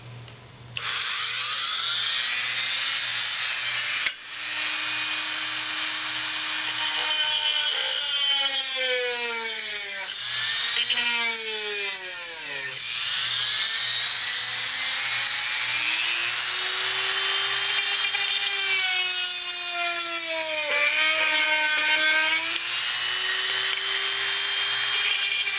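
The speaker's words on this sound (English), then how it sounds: "So I'm going to ream it out a little bit more with a little bit and my Dremel." A Dremel rotary tool reams out a drilled hole in a wooden shadowbox shelf, its high whine rising and falling in pitch as the bit bites and eases, running close and steady for about 25 seconds without talk.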